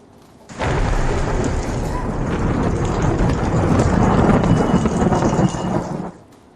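Heavy rain pours steadily with rolling thunder from a thunderstorm, a loud, dense roar of unseasonal rain that holds for several seconds and then cuts off.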